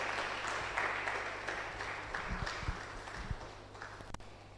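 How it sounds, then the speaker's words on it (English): A lecture audience gives faint, scattered applause for a guest coming forward, heard from a distance under a low background hum with a few louder knocks. "Please a round of applause for him as he comes"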